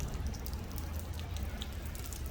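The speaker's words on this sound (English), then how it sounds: "It's kind of rainy" Rain falling during a walk on a street in Charleston, South Carolina: a steady, soft hiss of drizzle with faint scattered drops, continuous and fairly quiet.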